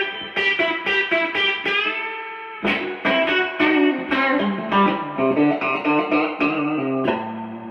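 A 1983 G&L SC-2 electric guitar on its bridge pickup, played through a 1964 Fender Princeton Reverb amp: bright, twangy strummed chords and picked notes ringing loud and clear, alone with no talking.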